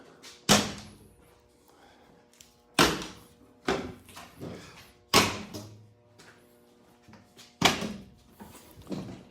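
Four sharp thuds of wedge-top camper doors on a Ford F150 cap opening, evenly spaced with pauses between, each followed by a short rattle in a quiet space.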